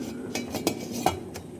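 A lid settles onto an idli steamer pot with a few light metallic clinks and taps, close and brief.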